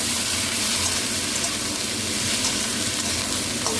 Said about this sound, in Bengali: এবার আমি কপিটা দিয়ে একটু ভেজে নেব।